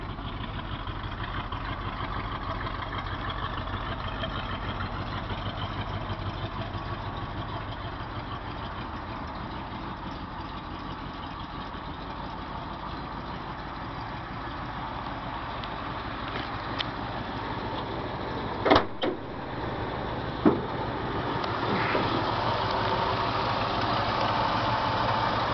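A 1978 Ford F250 pickup on a winter tune idles roughly, a steady low engine rumble with a couple of brief knocks or clunks near the end, no talking over it.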